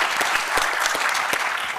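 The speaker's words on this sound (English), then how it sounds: "I love these round of applause" Dense applause from a seated audience at an adult education summit, steady and close, filling the short moment without talk.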